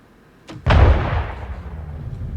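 A heavy weapon fires in a video game: a faint click, then one loud booming blast with a long rumbling decay that fills the rest of the moment, close and without voices.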